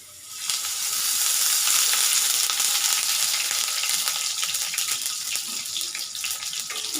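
Chopped onion and green chili fry in oil, a bright, steady sizzle that rises quickly and holds, with faint stirring scrapes and no talking.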